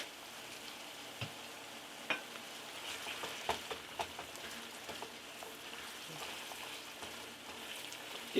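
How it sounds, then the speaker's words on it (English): Seasoned beef frying in a pan and being stirred, a soft continuous sizzle broken by scattered scrapes and knocks of a utensil against the pan, fairly quiet and close. "Give it a good stir."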